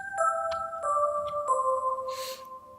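Synthesized Christmas bells with chorus and reverb play several struck, layered notes in an uneven rhythm, each ringing into long shimmering tails, with a bright airy swell near the end.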